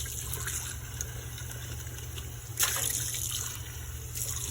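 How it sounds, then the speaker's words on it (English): Faint water trickles into a cup in a home kitchen while making bread-maker bread, with a brief louder splash partway through over a low background hum. "And I just put a little bit of water in a cup."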